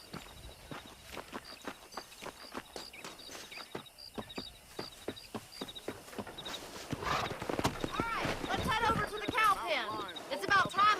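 Steady clip-clop of horse hooves walking at an even pace in Red Dead Redemption while herding cattle, close by, with game-style music and a few cattle-like calls rising toward the end.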